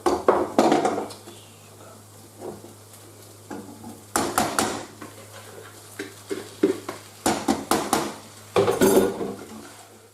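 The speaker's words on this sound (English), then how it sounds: "now we're going to add the chicken and cook it for a little bit longer" Diced chicken being stirred in a cooking pot for chicken tikka masala, a spoon scraping and clanking against the pot in irregular bursts over a soft sizzle and steady low hum.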